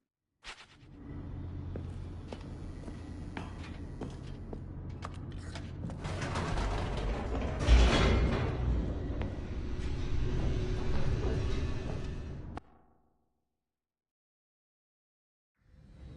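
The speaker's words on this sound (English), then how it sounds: "The elevator raced downward, plummeting towards an unknown fate." An elevator in The Stanley Parable descends with a steady mechanical rumble and faint creaks, building and swelling midway before cutting off abruptly into silence, with no voices.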